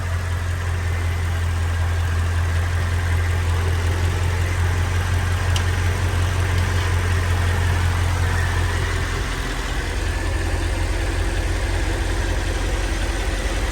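A Mercedes CL55 engine idles steadily while warming up, a deep, constant low rumble running close and loud for most of the stretch before dropping slightly near the end, with no talking.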